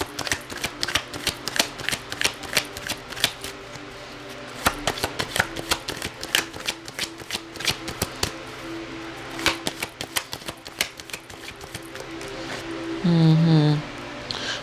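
Tarot cards being shuffled and drawn from a deck make a close series of quick papery flicks and riffles in uneven bursts, with a brief tonal sound near the end.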